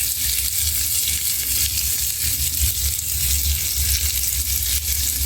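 Small fish sizzle and fry in hot oil as the water cooks off, a steady, loud crackling hiss that runs throughout without any talking.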